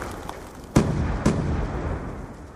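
A grenade detonates in a tactical team shooter match, two sharp broadband bangs about half a second apart, followed by a rumbling low tail.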